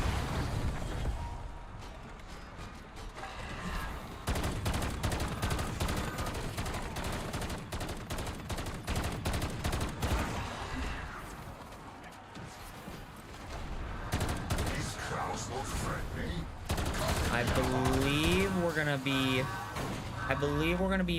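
Rapid automatic gunfire from Black Ops 7 rattles in dense repeated bursts throughout, moderately loud and mixed with game effects, while someone talks over parts of it.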